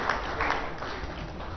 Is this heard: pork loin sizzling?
no